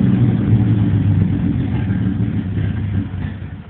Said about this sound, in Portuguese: Agora é marcha lenta.